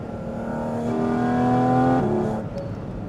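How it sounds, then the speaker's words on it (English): A Porsche flat-six, from a 911 GT3 RS or 718 Cayman GT4 RS, shrieks through its intake as it accelerates hard, its pitch climbing steadily before a sudden drop at a gear change, heard close from inside the car. "What I can tell you immediately is that intake sound is everything that it's reported to be."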